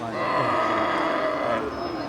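Cattle mooing at a busy cattle market, a long, loud low lowing call with a steady bellowing tone that fills the moment, set against faint background market murmur.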